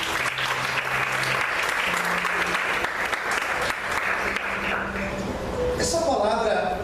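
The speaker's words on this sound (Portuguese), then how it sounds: "Vamos aplaudir o Senhor, amém?" A church congregation claps steadily and fairly loudly throughout, with faint voices and a held organ or keyboard tone underneath.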